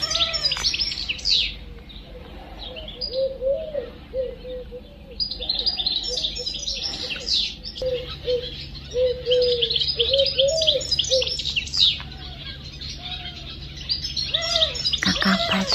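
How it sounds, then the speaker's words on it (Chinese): Small birds chirp and tweet in the early morning outside guesthouse lodgings, with scattered high calls and a few lower warbling notes over a quiet, faintly humming background, no one speaking. "一早小鸟就叫了"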